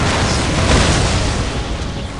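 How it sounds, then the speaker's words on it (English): Grenade explosions in the Warhammer 40,000: Dawn of War game, a loud, dense burst of booming blasts and debris that rumbles on and slowly fades, with no voices. "Let the grenades fly!"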